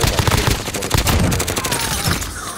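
Dense bursts of gunfire from Call of Duty: Modern Warfare, with rapid overlapping shots and automatic fire rattling loudly throughout a short firefight.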